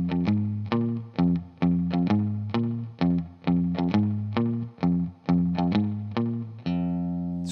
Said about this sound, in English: the guitar part starts out with this really cool bass line that sounds like this.